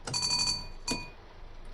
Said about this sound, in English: Fire alarm test.